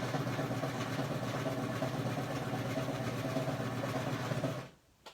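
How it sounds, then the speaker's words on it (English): A serger sewing machine stitches fabric for an eyeglass case, a fast, even mechanical whir running steadily for several seconds before stopping abruptly, followed by a faint click. "And I'm just going to stitch."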